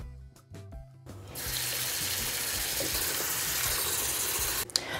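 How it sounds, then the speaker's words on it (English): Lamb meat boiling in a pot of broth with sliced onions, a loud steady rush of water and bubbling that starts after a second of clatter and runs on alone to the end. "First, we're going to boil the meat."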